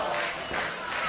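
A wrestling arena crowd cheers and applauds in a steady, dense roar of clapping and voices that holds without a break for the whole moment.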